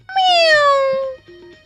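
A cat gives one long, clear, falling meow close by, followed by a brief softer mew after a short pause.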